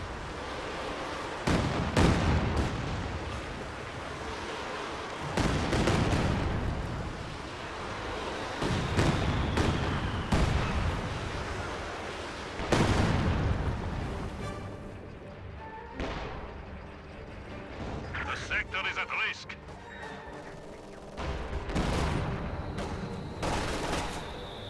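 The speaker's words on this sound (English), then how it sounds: "I don't even remember the last time this Katyusha fired. Nope, there it goes." Katyusha rocket artillery firing in a Company of Heroes match, a run of loud booming launches and blasts repeating every few seconds across a busy battlefield din, with distant gunfire between them.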